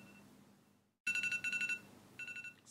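After a quiet moment, a loud electronic alarm starts up in rapid pulsing bursts, pauses briefly, then resumes with another run of beeps.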